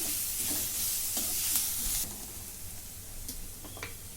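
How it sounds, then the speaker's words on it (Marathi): A ground paste of garlic, coconut and coriander is sautéed in a pan for a capsicum curry, sizzling steadily with scraping stir strokes. The frying grows softer partway through, and no one speaks. "आता हे जरा परतून घेते"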